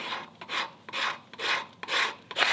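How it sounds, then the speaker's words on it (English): Rhythmic rasping strokes of a thin scraper across the wood of a hand plane tote, about five even back-and-forth passes, close and clear. "you can take a thin scraper and you can work this like this on that"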